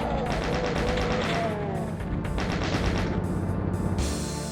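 A chain gunner enemy in a Doom-style shooter fires rapid repeated chaingun bursts from behind the player, dense and loud with battle noise layered over it and no talking.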